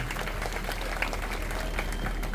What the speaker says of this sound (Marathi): आता टाळ्या वाजवा अशी विनंती आपण